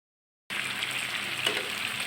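Raw mango pickle with the skin on cooks over medium to high heat in a pan, a steady close sizzle and bubbling throughout with a faint stir in the middle.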